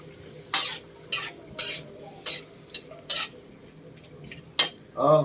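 Moringa pods cooking in a pan with a little broth, stirred in about eight separate scraping bursts against a quiet simmer, ending with a brief muffled sound.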